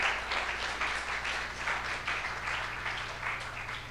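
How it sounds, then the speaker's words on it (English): Steady, broad applause from a church audience for its witnessing team, many hands clapping together at an even level throughout with no break. "give them a round of applause."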